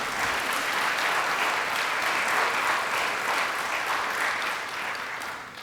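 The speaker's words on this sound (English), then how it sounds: "So let's round of applause for Bambi." An audience at a disability affairs awards ceremony applauds in a dense, steady wash of clapping that holds for several seconds and then begins to fade.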